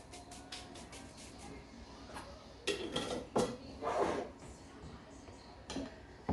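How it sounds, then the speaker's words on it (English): Flour is stirred into dried fruit for a Christmas cake in a mixing bowl, with soft scraping and scattered clinks of a spoon against the bowl, some stronger knocks, and a voice talking throughout. "Give that a really good stir. Get all that flour in."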